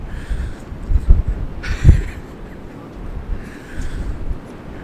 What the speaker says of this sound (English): the clouds are coming in, it's so windy.